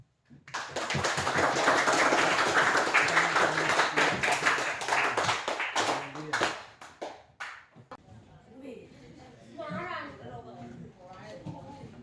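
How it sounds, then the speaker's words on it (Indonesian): Group clapping at a Christian religious education teaching session in Ambon, a dense burst of applause for about six seconds that fades out as voices take over. "Tepuk tangan untuk"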